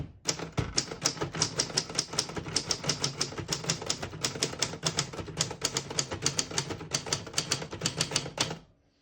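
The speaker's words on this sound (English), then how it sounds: "since we do have a black and red ribbon, I'm going to print red now" Rapid, evenly spaced keystrokes clatter on a 1964 West German Adler J4 portable typewriter set to print in red ribbon, a loud, close run of sharp mechanical taps for several seconds before stopping.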